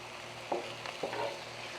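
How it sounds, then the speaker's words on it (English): Steady sizzle of thin-sliced potatoes frying in oil on a grill, with two scraping stirs of a spatula, close by and moderately loud. "Stir these potatoes a little bit."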